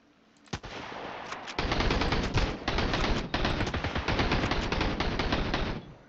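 Automatic gunfire from a first-person shooter game, Sunkenland, rattles in sustained rapid bursts up close, loud and dense for several seconds with a few brief breaks.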